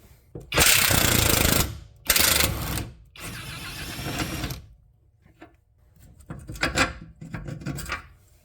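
A power tool or impact gun buzzes and rattles loudly while removing a 21 mm control arm bolt on a 2011-2019 Ford Explorer, running in a couple of bursts with quieter gaps and clanks between.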